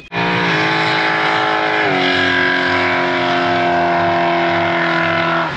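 Engines of cars at an outdoor car show at a market, a loud continuous revving drone with rising and steady harmonic tones and a pulsing low rumble, no voices.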